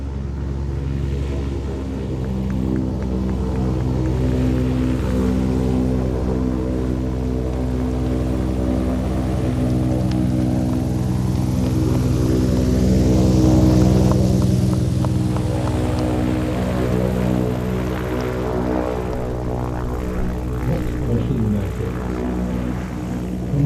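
Pitts S2S aerobatic biplane flying at Little Gransden Airshow, its propeller engine droning loud and continuous, swelling as it passes nearest and then easing off.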